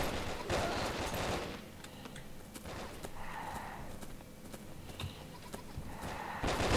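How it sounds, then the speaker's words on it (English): Rapid gunfire bursts from the blocky first-person shooter Brick Force fill the clip, dense and continuous, with scattered sharper shots and in-game footstep-like clatter. "I'm shooting most of my own guys, to be honest."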